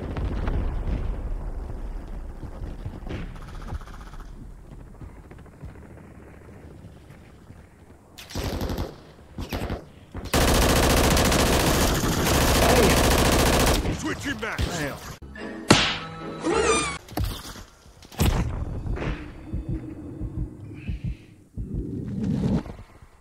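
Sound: gunfire in Call of Duty video game

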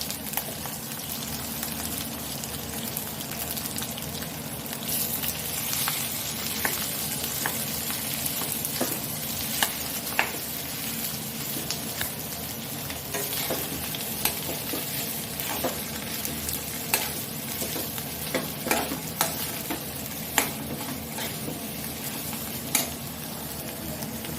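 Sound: potatoes and roasted chilies being stirred and fried in a pan

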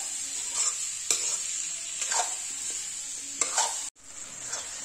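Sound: stirring amla pickle with spices in a pan

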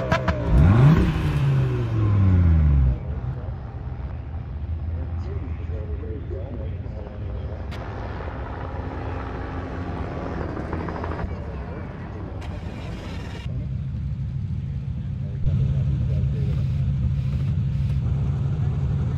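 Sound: car engine accelerating in third gear, Car For Sale video game

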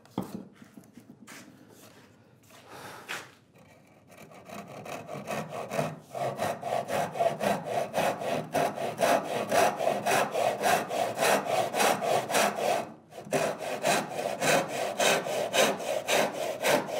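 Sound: 12-inch tenon saw cutting wood

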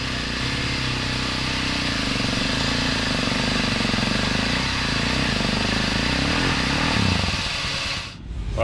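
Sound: winch pulling motorcycles up a slippery wet track

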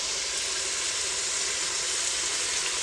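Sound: vegetables frying in a pan for pulao

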